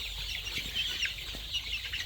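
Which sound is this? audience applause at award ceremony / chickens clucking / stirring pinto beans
chickens clucking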